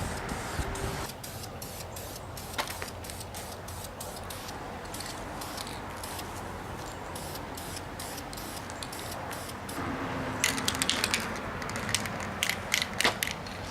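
Aerosol spray paint applied to the valve cover of a 1990 Mazda Miata, a steady hiss broken by clicks and rattling bursts, with the can shaken near the end, close and without speech.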